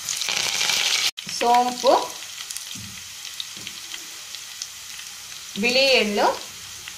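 Spices, dried chilli pieces, curry leaves, garlic, fennel and white sesame fry in hot oil for a mango pickle, giving a steady close sizzle while a voice talks over it.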